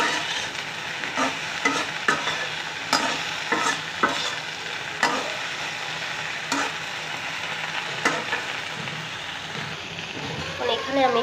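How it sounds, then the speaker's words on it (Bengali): Mashed okra being stirred and fried in a pan, giving a continuous sizzle broken by regular scraping and knocking strokes of the spatula, close and clear, with a voice heard faintly at moments. "এখন ভালো করে নেড়ে চেড়ে দিয়ে ভাজা ভাজা করে নিব।"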